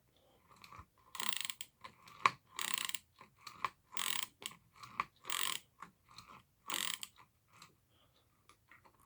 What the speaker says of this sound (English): I can just use the ratcheting action.